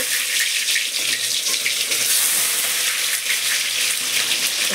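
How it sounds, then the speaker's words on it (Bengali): Onion hitting hot oil with panch phoron in a home kitchen pan, giving a loud, continuous close-up sizzle and crackle with no pauses and no talk. "তেল গরম হয়ে গেছে, পাঁচফোড়ন দিলাম, পেঁয়াজ দেবো"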